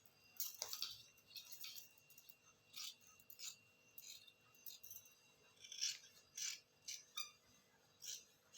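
Scissors cut through blouse fabric in a quiet room, giving a run of short, crisp snipping rasps in uneven bursts, each snip close and fairly soft.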